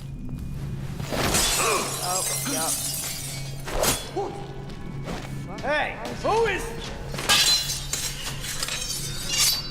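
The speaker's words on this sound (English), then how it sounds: "I'm gonna see if we can land without landing on breaking more glass." Glass shatters repeatedly in the stealth video game Dishonored, sharp crashing breaks and tinkling shards scattered across several seconds, mixed with game sounds while someone talks briefly.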